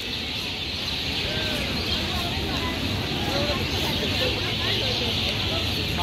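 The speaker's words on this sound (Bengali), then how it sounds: "মানে জাস্ট পাখির আওয়াজগুলো শুনেন" Birds chirp and call in Ramna Park on a busy Victory Day outing, with scattered short calls heard over a steady background of crowd chatter and general hubbub.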